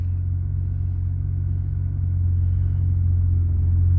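A BMW E36 M3 engine idling roughly, a loud, close, low steady rumble with a faint uneven pulse, holding constant and swelling slightly in the second half.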